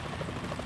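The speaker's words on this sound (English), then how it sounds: "The chopper." Helicopter rotor noise from Metal Gear Solid 2 on the tanker deck, a steady broadband whir held at even loudness throughout the brief moment with no speech.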